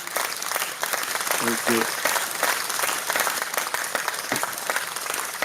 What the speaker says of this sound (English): Somebody should clap for that